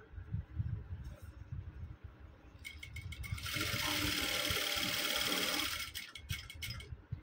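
A Jack F5 sewing machine is run from its pedal, giving a quiet mechanical whir that starts after soft handling noises, holds steady for about three seconds and then stops, followed by light clicks.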